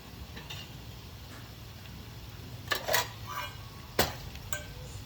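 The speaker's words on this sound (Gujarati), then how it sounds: "મિક્સ થઈ જાય એટલે એમાં આપણે સિંગદાણાનો ભૂકો નાખીશું અને હલાવી નાખીશું." A spoon stirs crushed peanuts into a Gujarati fasting dish in a pan, giving a few faint scrapes and a couple of sharper metallic clinks over a quiet background.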